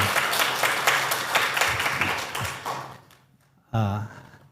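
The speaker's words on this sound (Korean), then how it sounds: "우리 다시 한번 하나님께 큰 영광의 박수를 돌려드리겠습니다" A church congregation claps during a Sunday worship service, a brisk round of hand clapping that fades out, followed by someone speaking.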